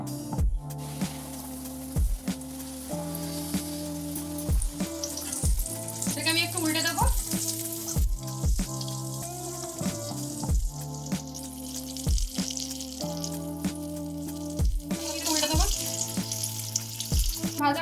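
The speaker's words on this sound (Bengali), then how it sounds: "আমি একটু উল্টে দেবো, অন্য দিকটা একটু ভেজে নেবো উল্টে।" Coated chicken pieces frying in hot oil for homemade KFC-style fried chicken, a continuous crackling sizzle under a repeating rhythmic musical backing, with occasional bursts of spattering.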